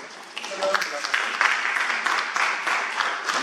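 Audience applause at a debate between Ansan mayoral candidates, a dense steady patter of many hands that carries on evenly for a few seconds in a hall.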